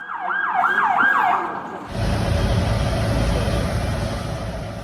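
An emergency vehicle siren wails at the scene of a car that hit a tree and caught fire, a loud rising-and-falling cycle that gives way after a couple of seconds to a rumbling engine and road noise.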